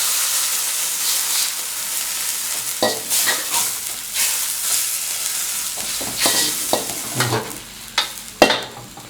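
Ginger stir-fried in a hot pan with oil while making a tilapia dish, heard as a close, steady sizzle with scraping spatula strokes and clanks that grow sharper toward the end, no voices.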